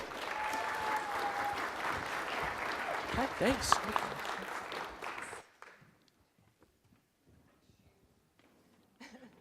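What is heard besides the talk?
audience applause as speakers come on stage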